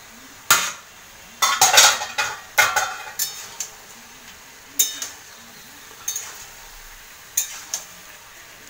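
A pot of dal cooking with bottle gourd is uncovered and stirred, giving sharp metallic clanks of lid and spoon against the pot in irregular bursts over a faint background of simmering.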